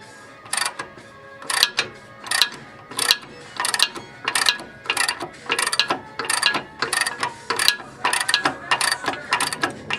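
A socket wrench ratchet turning off the upper ball joint nut on a 1992 Toyota 4Runner makes steady bursts of rapid, close metallic clicking, repeated stroke after stroke with no talk.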